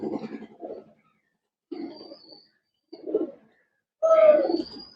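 Pigeons coo in four separate low, throaty bursts with silent gaps between them, close by and fairly loud, the last call longest.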